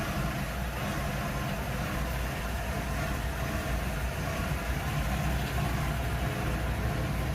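A Comet car engine idles steadily, a constant low rumble with a broad hiss, close by and unchanging throughout.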